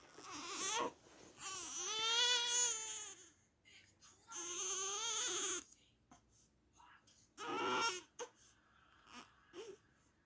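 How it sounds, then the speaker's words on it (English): A newborn baby girl whimpers, cries and babbles in several short bursts with quiet pauses between, close and soft. "Don't you just love the sounds babies make?"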